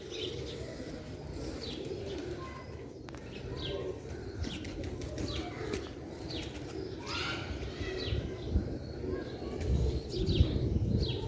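Pigeons coo softly over a steady low rumble of background noise, with scattered chirps and a few wing flaps throughout.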